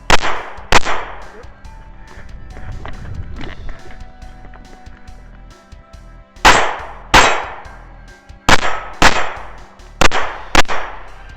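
Shots fired at steel targets on a night run-and-gun shooting course, loud sharp reports each with a metallic ring, first a quick pair, then a muffled stretch of movement, then a rapid irregular string of about seven shots.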